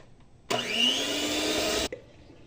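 An electric blender whirs loudly for about a second and a half, beating cream for malai kulfi, starting and stopping abruptly with a rising motor whine.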